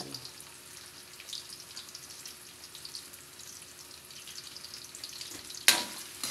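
Carrots and potatoes fry in a home kitchen pan, a soft steady sizzle with scattered crackles throughout, and a sudden loud clatter near the end.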